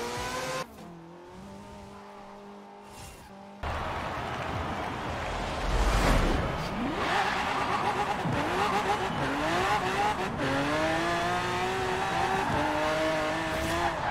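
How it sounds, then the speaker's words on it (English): Formula race car in the video game Forza Horizon 4, its engine droning and revving up and down through the gears, with tire squeal, swelling loud after a brief quieter stretch near the start. "Looks like I'm driving a formula."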